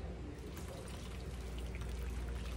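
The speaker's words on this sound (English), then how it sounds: "pour this all over it" Liquid with bits of garlic poured over a roast in a small roaster pan, a soft, steady splashing trickle heard close and fairly quiet, without talk.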